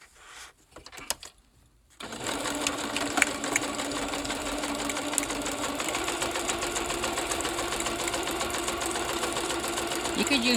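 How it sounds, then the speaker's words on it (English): After a few quiet handling noises, a sewing machine starts stitching paper scraps, running as a steady, close mechanical whir with a fast rhythmic chatter that continues to the end. "using the sewing machine"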